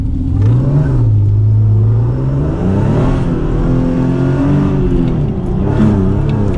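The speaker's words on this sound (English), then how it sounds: "I'm gonna try to do a launch here. This time traction on, because I don't want to go sideways." A Mercedes W203 C32 AMG launches hard with traction control on, its engine climbing in a loud, close, rising howl that pulls through the revs with a brief dip as it shifts, then keeps building with no talk over it.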